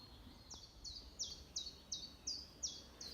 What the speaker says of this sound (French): Ça fait du bien ce silence avec les oiseaux.